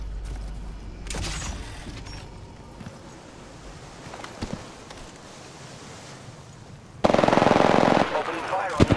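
R99 submachine gun fire in Apex Legends, with scattered shots and clatter giving way to a loud, sustained, rapid burst near the end, amid game effects and a voice.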